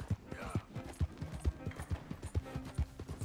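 Horse hooves galloping in Red Dead, a steady rhythmic clip-clop of repeated thuds at close range, with game ambience beneath.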